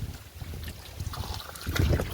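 A water motor pump runs with water gushing and splashing under pressure, a steady churning wash with low rumbling that swells louder toward the end, heard up close outdoors.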